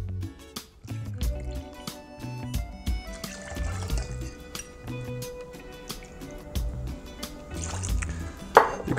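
Cold brew coffee toddy poured into a glass for a carajillo with Licor 43, a steady liquid trickle with light glass clinks, close up, with faint background noise.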